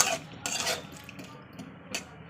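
Potatoes being stir-fried in a pan for a vegetable curry, with scattered scraping and clinking of a spatula against the pan in a few distinct bursts over a low background hiss.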